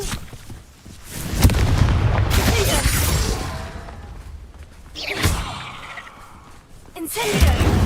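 Confringo blasting spell explosions in a video game, several heavy booming blasts with sharp cracks at irregular intervals, each followed by rumbling decay, loud and close.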